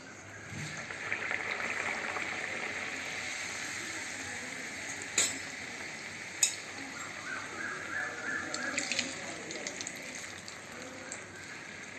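Adhirasam dough fries in oil with a continuous, moderately loud sizzle. A couple of sharp clinks and some light stirring noises cut through it, and no one speaks.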